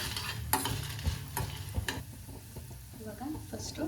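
Coriander and cumin seeds fry in a hot pan with a soft crackling sizzle, punctuated by several sharp stirring scrapes and clinks of a spoon against the pan, close and moderately loud.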